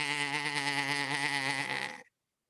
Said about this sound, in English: They pulled the goat into the house.